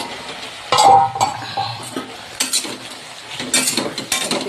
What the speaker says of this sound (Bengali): মশলা থেকে ভালো করে তেল ছেড়ে দিয়েছি একদম। এই যে খুব সুন্দর মশলাটা ভাজা হয়ে গেছে।